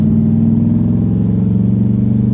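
A restored 1974 C3 Corvette with its convertible top off, driving on a cold January morning, gives a loud, close, steady engine drone with a throbbing low rumble that holds throughout and has no speech over it.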